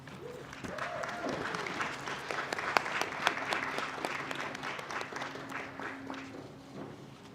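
A graduation celebration audience applauds steadily for several seconds, a moderately distant crowd of clapping hands with a few sharper claps standing out and faint background sounds underneath.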